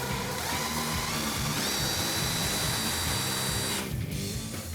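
A power drill whirs steadily while pre-drilling through cabinet frames from the inside to join them flush, running loud and close for several seconds before winding down near the end.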